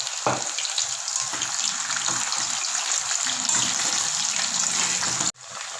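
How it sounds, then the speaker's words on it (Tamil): Mushrooms deep frying in hot oil in a pan, made restaurant-style for a dragon mushroom dish, give a loud, steady bubbling sizzle that runs continuously before cutting off abruptly near the end. "இந்த மஷ்ரூம் நல்லா டீப்பாக ஃப்ரை ஆகிருக்கு"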